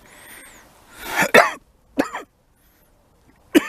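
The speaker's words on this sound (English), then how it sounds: "that and coughing me guts up" A man coughs several times in short, harsh bursts with throat clearing, close and loud, separated by brief pauses of near silence.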